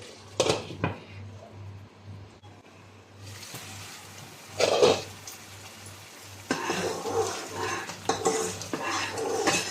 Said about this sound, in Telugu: ఇప్పుడు ఇదైతే నేను మూత పెట్టేస్తున్నాను